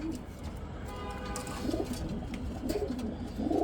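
Highflyer pigeons on a rooftop coo softly in short repeated phrases, set against a steady background hum with faint voices.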